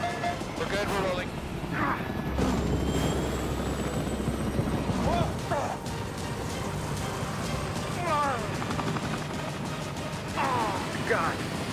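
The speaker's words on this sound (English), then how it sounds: "To see a helicopter just dropping out of the sky like that and corkscrewing that far down" A helicopter dives and corkscrews down during a stunt for a Mission: Impossible – Fallout film shoot, its rotor roar loud and continuous throughout while people talk over it.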